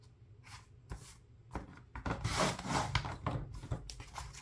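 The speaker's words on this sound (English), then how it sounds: "We're just going to trim this" Paper being trimmed for a vacation planner scrapbook layout, a run of soft scraping, rubbing cuts that come close together, swelling in the middle of the stretch and then tapering off.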